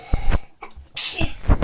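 Several quick sneezes and sniffly bursts, close and sharp, in a short burst of separate explosive sounds with brief pauses between.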